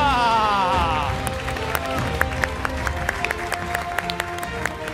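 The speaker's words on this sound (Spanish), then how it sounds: "Lola, Clemen y Manu aplauden a Paula." Studio audience on the Argentine TV quiz show Los 8 escalones claps for a contestant, a steady patter of scattered hand claps with sharp individual slaps, under music and a host's voice.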